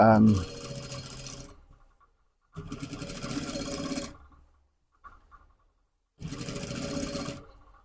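A sewing machine stitches the side seams of a hoodie in three loud, steady bursts of whirring, with short pauses and a faint clunk between runs.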